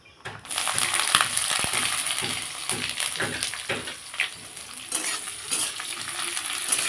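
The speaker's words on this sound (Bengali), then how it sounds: "ভালো করে তেলে আমি পেঁয়াজগুলোকে ভেজে নেব" Chopped onions frying in hot oil with bay leaves for a telakucha greens dish, a steady broadband sizzle with repeated scraping strokes of stirring, close and continuous without talk.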